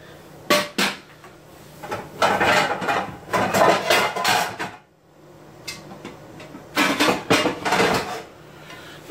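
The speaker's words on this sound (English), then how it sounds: "Let's reach down here and get my frying pan." Clattering and knocking of metal cookware being moved, a pan pulled out among bumps and clanks, with short pauses between bursts.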